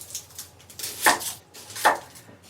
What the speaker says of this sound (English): it begins with an endless amount of chopping